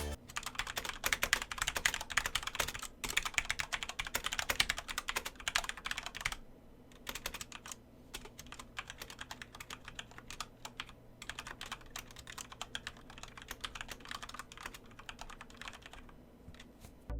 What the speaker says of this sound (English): So here's a sound test just in case you're curious